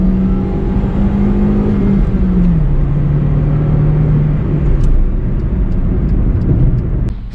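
A 2013 Hyundai i10 with a 1.2 four-cylinder petrol engine pulls in second gear, a loud, smooth, continuous cabin drone whose pitch sags slightly before leveling, with faint clicks near the end.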